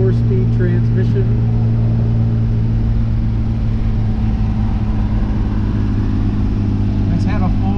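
Inline six-cylinder engine of a 1967 Austin Healey 3000 BJ8 MKIII with carburetors, running at a steady, throaty drone throughout, loud and close, with faint voice-like sounds at moments.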